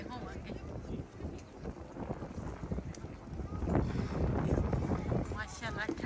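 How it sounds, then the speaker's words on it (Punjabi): Cool wind blows outdoors in Medina near the gates of a mosque courtyard, gusting and buffeting the microphone as someone talks over it and other voices murmur in the background. "ਮਾਸ਼ਾਅੱਲਾ ਠੰਡੀ ਠੰਡੀ ਹਵਾ ਚੱਲਦੀ ਆ।"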